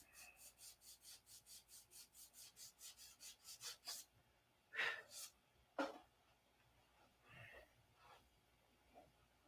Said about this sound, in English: I'm trying to get these flap fairings in, sanded in.